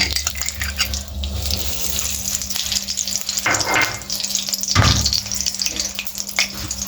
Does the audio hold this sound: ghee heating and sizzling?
yes